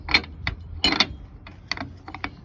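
A socket wrench loosening a Dana 44 spindle nut during a 5/8 stud kit install, giving a few close metallic clicks and ratcheting clanks in irregular bursts.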